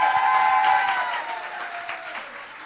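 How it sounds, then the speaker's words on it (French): Audience applause at a televised interview evening, dense clapping that starts strong and tapers gradually, with a faint sustained tone underneath. "Une bonne main d'applaudissements."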